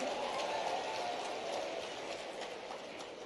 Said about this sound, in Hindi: थोड़ी ताली बाकी के लिए भी बजा दो यार,